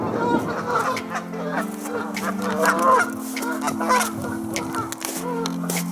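Geese at Wat Lao Veluwanaram honk repeatedly in a noisy flock, loud and close, with steady overlapping calls as a person talks over them.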